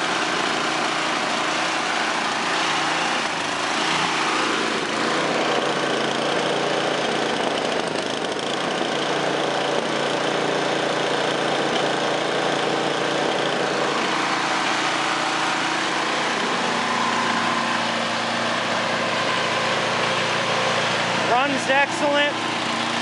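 A Craftsman 10/30 snowblower engine with electric start idles as it warms up, holding a steady, loud, close mechanical drone that changes little throughout, with a brief rattle near the end.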